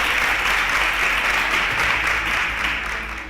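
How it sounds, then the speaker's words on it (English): Steady audience applause for a contestant who answered correctly on a televised school quiz show, a dense, even wash of clapping holding loud throughout and easing slightly at the end. "A round of applause for him."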